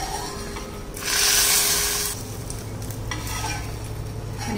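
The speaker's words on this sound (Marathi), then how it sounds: "गॅस बंद करूया आणि ही फोडणी आपण भाजीत घालूया" Hot garlic tempering hits a thin fenugreek leaf curry with a sudden loud hissing sizzle that lasts about a second. It then settles into a quieter steady fizz over a low hum.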